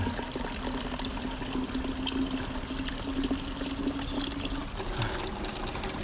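Water pours steadily to fill a container, a continuous close splashing stream that runs for several seconds.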